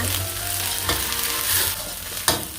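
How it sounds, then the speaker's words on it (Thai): Sesbania flowers and egg stir-frying in a pan, with steady close sizzling and a few sharper scrapes and clatters of stirring. "ใส่ดอกสโนลงไปนะคะ ผัดให้เข้ากันเลย"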